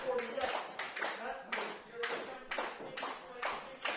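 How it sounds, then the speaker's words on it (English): Crowd clapping at a wrestling show, bursts of applause rising and falling in rhythmic waves, close and fairly loud, with a voice talking over it. "Does he honestly think they're clapping for him?"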